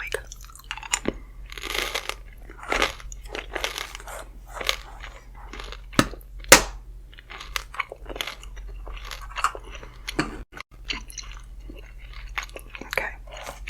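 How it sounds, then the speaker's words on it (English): Chewing gum is worked in the mouth close to the microphone, with wet, crackly chews and smacks repeating irregularly over a quiet background and no talking. "I gotta have some chewing gum, right?"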